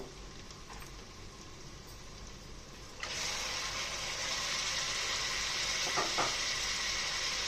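Prawns added to a pan of already fried onions set off a sudden, loud, steady sizzle. Quieter frying before that jumps up and holds, with a couple of brief stirring clicks near the end.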